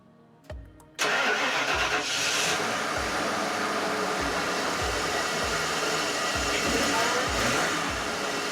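A 1996 Ford F250 truck engine cranks and catches after a brief quiet lead-in, then settles into a loud, steady idle. The running engine thrums with a regular rhythmic pulse and stays close for the rest of the clip.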